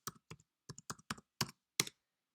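Computer keyboard typing a single search word: seven distinct key taps in short, uneven bursts over about two seconds, close and fairly quiet, with no voice.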